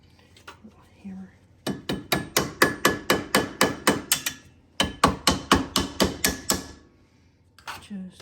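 A small hammer taps metal on a Polaris Sportsman ATV rear axle in quick, even bursts of ringing strikes, two runs of about a dozen blows each, close and clear with brief pauses between.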